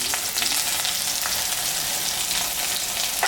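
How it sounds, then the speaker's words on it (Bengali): Chopped onion, garlic and ginger frying in oil in a pan with a bay leaf, a steady dense sizzle running evenly throughout, close and continuous with no talking. "পেঁয়াজটা একটু লাল করে ভেজে নেবো বন্ধুরা।"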